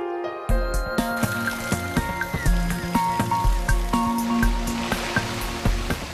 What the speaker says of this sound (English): Just days after the roof comes off, torrential rain sets in.